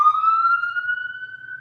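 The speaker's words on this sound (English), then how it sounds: "Well, there's another ambulance, or police car. Now, I understand, they have to be noisy." An ambulance or police car siren sounds as a single steady, loud wailing tone that rises slightly in pitch, heard alone with no talking.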